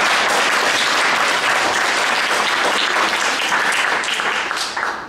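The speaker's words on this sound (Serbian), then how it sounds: "molim i za Iliju jedan aplauz" Warm audience applause for Ilija at a cultural evening, a dense wash of many hands clapping close and loud, holding steady for several seconds before tapering off at the end.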